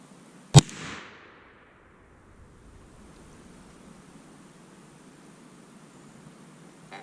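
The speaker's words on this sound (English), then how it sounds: "And we're going to do 3 shots if we can get them register, and try to get a little group." A single loud black powder shot from a Thompson Center Seneca 36 muzzleloader cracks sharply, with a short rumbling decay, then low steady outdoor background noise.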